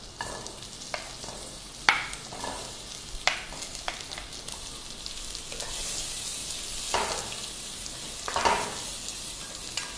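Roughly chopped onions going into a hot pan and frying, a steady close sizzle broken by several sharp clatters and scrapes of stirring.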